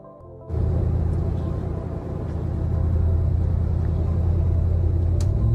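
Steady road rumble from a vehicle riding along Highway 183 in Dallas-Fort Worth, Texas, a loud continuous drone heard from inside with no talking.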